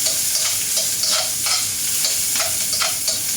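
Onions sizzling in a hot pan while being stirred, a loud steady hiss broken by repeated scraping strokes of a utensil, with no talking.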